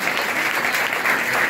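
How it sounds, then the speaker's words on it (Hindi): Audience applause at an honouring ceremony in Hisar, a dense, steady wash of many hands clapping together, fairly loud and continuous throughout with no voices over it. "तालियों में कोई कंजूसी नहीं होनी चाहिए"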